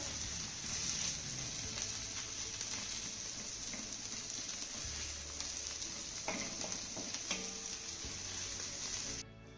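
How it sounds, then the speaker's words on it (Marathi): Grated bitter gourd sautéing with onion and tomato in a hot pan, a continuous bright sizzle with occasional scraping of a spatula as it is stirred, steady and close. "पुन्हा आपल्याला हे कारलं ना एक ते दोन मिनिटं चांगलं परतून घ्यायचं आहे"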